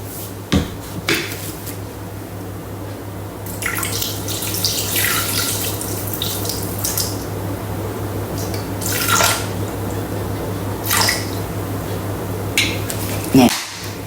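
Water, 100 grams, being poured into a Thermomix bowl during quick food prep, a steady splashing trickle with a few clinks and knocks, close by, with talk over parts of it and a steady low hum beneath.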